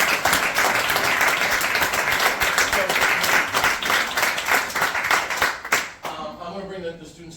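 An audience applauding for students at a jazz event, a dense sustained clatter of many hands that fades out near the end, with talking underneath.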